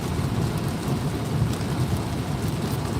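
Steady, dense rain falls continuously with a deep rumble of thunder rolling underneath, loud and close throughout with no voices.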